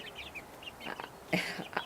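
Chickens cluck and chirp in short bursts nearby, with a few sharper calls toward the end and no talking.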